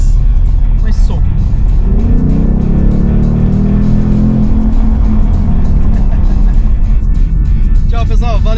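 A Ford Mustang Mach 1 with a V8 engine rumbles loud and close for the whole stretch, its deep tone swelling in a long rev near the middle, with a voice talking briefly near the end.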